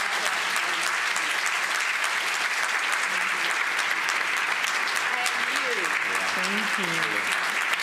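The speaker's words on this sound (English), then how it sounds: "Can you all give an enormous round of applause?" Enormous round of applause from an event audience, a thick, sustained roar of clapping from a large crowd throughout, with a voice speaking faintly over it near the end.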